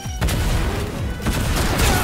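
Fortnite Battle Royale gunfire crackles in a dense, loud burst lasting about two seconds, with sharp repeated shots over a busy game soundscape.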